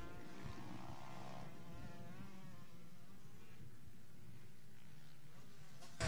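Two-stroke motocross bikes racing at a Motocross League of America round, a steady, distant buzzing engine drone holding throughout with a slight rise at the very end.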